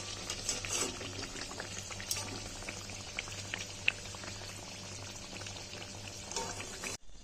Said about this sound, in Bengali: এরকম করে একটা একটা করে সব ভেজে নেবো।